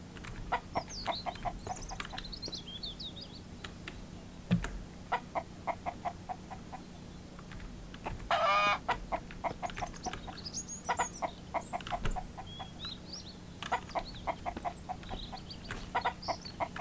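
Repeated clucking from a chicken in the survival game Mist Survival, steady short calls throughout with a brief louder flurry midway, heard alone without talk.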